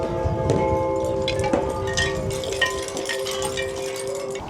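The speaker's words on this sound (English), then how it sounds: "That, with the wind chimes, was creepy." Wind chimes ring and clink at a quiet seaside front with shops closed, several bright metallic tones overlapping and sustaining against steady wind and background noise.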